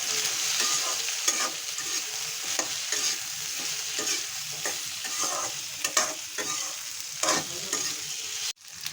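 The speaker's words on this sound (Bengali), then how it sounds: "এবার একটু ভাজা করে নেব।" Salted, turmeric-dusted eggplant and potato fry in a wok with a constant hiss of oil, punctuated by repeated scraping strokes of a spatula stirring the pieces.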